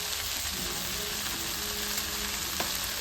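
Chopped tomatoes hit a hot frying pan of oil with salt and capsicum, giving a steady, close, crackling sizzle with a few sharper pops and no talking.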